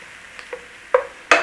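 Chinese black beans tipped into a wok of hot garlic and ginger for takeaway-style cooking, giving a couple of sharp clattering drops followed by a rising sizzle, close and fairly loud after a quiet start.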